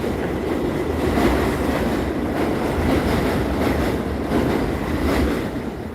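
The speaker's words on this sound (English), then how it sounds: "This is the D train." A D train on the subway in Bensonhurst, Brooklyn, a steady loud rumble of rolling wheels with faint clatter and squeal, heard close and continuous.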